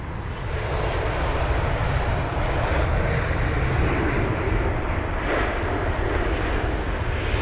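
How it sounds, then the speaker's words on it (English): A Lufthansa Airbus A320neo landing at London Heathrow, a loud, steady broadband engine roar and rushing air sustained throughout the rollout, close by and with no voices over it. "on board this A320 neo aircraft, registered as Delta Alpha India November Oscar, with a nice and smooth touchdown"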